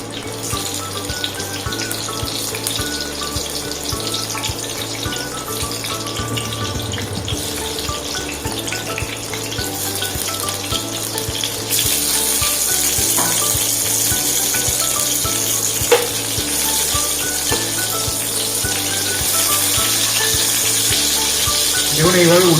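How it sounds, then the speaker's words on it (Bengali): Pointed gourd (potol) pieces are slipped one at a time into hot oil, giving a steady close-up sizzle and hiss that grows louder and fuller about halfway through and then holds. "এবার পটলগুলোকে এক এক করে তেলের মধ্যে ছেড়ে দিচ্ছি।"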